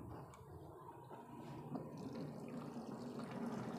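Water pumped through a homemade DIY filter, a soft continuous trickle and gurgle of flowing water that builds slightly toward the end, faint and close, with no talk.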